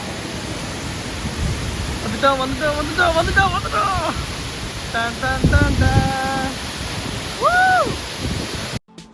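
Aruvikkuzhi waterfall near Kumily roars as a steady, loud, broad rush of falling water, with voices and brief tonal calls heard over it.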